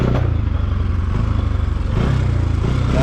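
A Bajaj Pulsar NS 200 motorcycle engine labours along a slippery off-road riverside trail, a loud, close, steady throbbing drone with slight surges and rattling clatter throughout.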